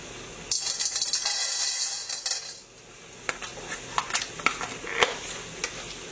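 Urad dal, pepper and chana dal dry roasting in a pan for mutton peratal masala, with a metal spoon clinking and scraping repeatedly against the pan over a soft background crackle, close and fairly loud, no voices.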